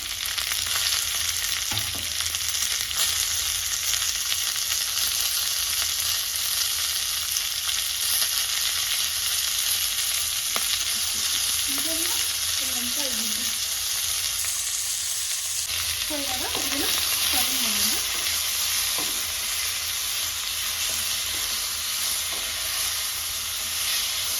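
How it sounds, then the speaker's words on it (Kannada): Onions and tomatoes frying in a pan for a chickpea and pea curry, a loud continuous sizzle and hiss close up with occasional stirring scrapes throughout. "ಈರುಳ್ಳಿ ಟೊಮೊಟೊ ಎಲ್ಲದನ್ನೂ ಆ್ಯಡ್ ಮಾಡ್ಕೊಳ್ಳಿ"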